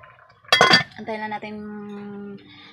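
A metal lid clanks down onto a cooking pot of coconut-milk stew with shrimp and mung beans, one sharp clatter followed by a ringing, fading hum, close and alone.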